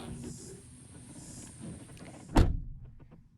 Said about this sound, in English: And then shutting the door, even for this year model, it sounds very solid.